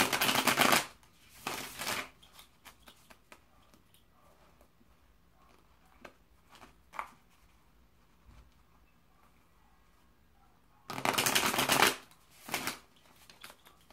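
Lumina Tarot cards shuffled by hand in bursts: a riffling flurry at the start, another shorter one, scattered light card taps in a quiet stretch, then a longer shuffling run near the end, close and clear.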